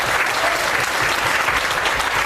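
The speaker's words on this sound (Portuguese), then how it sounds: "Aplauda o nome dele aqui para ver." Church congregation applauding together, a dense, continuous burst of clapping filling the room with no break.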